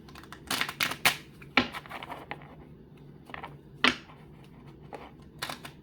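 Tarot cards are shuffled by hand, a near, quiet run of papery riffles and taps in irregular bursts with pauses between them, and no one speaks.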